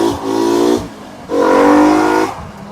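A Mk2 GTI with a swapped five-cylinder engine pulls hard twice, each loud rising engine surge lasting under a second and separated by a brief lull, with the engine heard alone and close.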